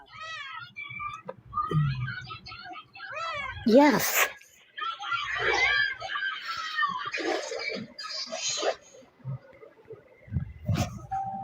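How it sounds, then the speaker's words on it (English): A distressed cat yowls and meows repeatedly in drawn-out, pained cries, loud and close, while people talk over and between the calls. "Yeah, the cat sounds and looks like it's in pain."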